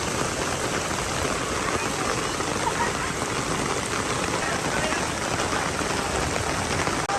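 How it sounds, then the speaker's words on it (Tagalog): Heavy storm rain pours down steadily over a riverside family campsite, a dense, loud, unbroken hiss of drops drumming on surfaces throughout with no pauses. "ulan na naman. Ayan na. Medyo malakas-lakas to."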